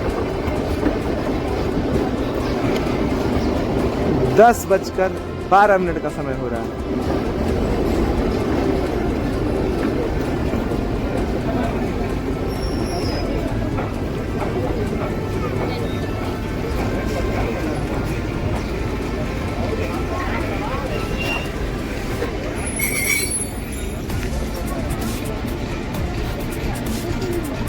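The Ooty toy train pulls into Coonoor railway station in the Nilgiris with a continuous rumble and clatter of wheels over rail joints, a brief metallic screech partway through, and someone talking over it.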